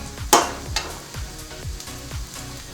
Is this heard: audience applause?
no